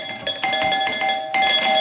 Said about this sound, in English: What's that? The doorbell?